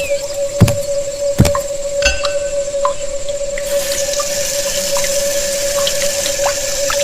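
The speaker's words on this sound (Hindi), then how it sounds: "उसने अपना चेहरा धोया" Someone washes their face with water in a cartoon scene: two sharp splashes, a brief trickle, then a steady run of water splashing close by, with a sustained tone underneath.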